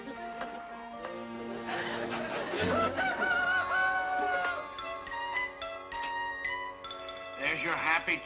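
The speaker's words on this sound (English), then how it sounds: "There's your happy chicken, Alice." A rooster crows and clucks in a sitcom scene, the calls rising and wavering at mid volume while background voices and brief laughter surround them.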